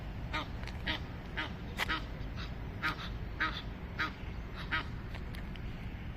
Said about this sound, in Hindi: इधर बतख,